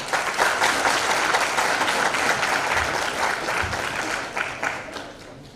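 Warm, sustained applause from attendees at an international textiles conference, dense and close, slowly thinning toward the end.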